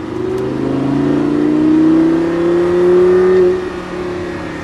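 A Lamborghini Gallardo accelerates hard at a driving event at La Ferté-Gaucher, its engine note climbing steadily in pitch, loud and close, then easing off at the end, with no voices.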